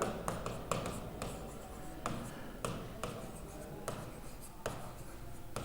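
A question is written out by hand during an English grammar lesson, heard as a series of close, rhythmic scratching strokes and taps in short bursts, with no clear talking.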